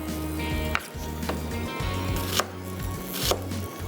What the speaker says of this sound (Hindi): जनाब प्याज के भी स्लाइस कर लेते हैं